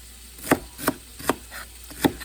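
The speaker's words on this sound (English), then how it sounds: "Got a couple more I'm chopping and dropping." Vegetables for chow mein being chopped with a knife on a board, four sharp, evenly spaced chops standing out close and clear over a quiet kitchen background.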